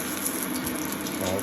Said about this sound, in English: So you can hear the tea kettle